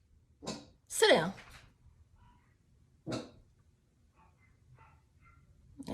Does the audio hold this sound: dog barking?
yes